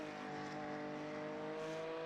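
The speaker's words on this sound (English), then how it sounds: "Listen to the revs as he feathers it." A sports or GT race car passes under a circuit bridge as its driver feathers the throttle. The engine drones at a fairly faint, distant level with a wavering pitch, and no one speaks.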